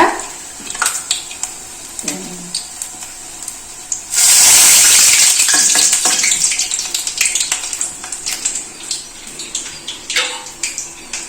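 Urad dal vadas fry in hot oil in a home kitchen, hotel style. A sudden loud, hissing sizzle bursts up and lasts a couple of seconds before easing into softer bubbling, with scattered clinks and no talking.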